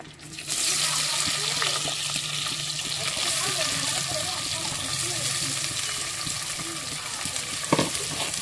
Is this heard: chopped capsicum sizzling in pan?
yes